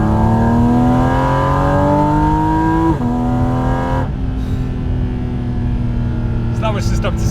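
A Porsche GT4 RS engine with a lightweight racing flywheel revs up to about 6,000 RPM in two rising sweeps, loud and close, then drops to idle. Brief talk comes in near the end.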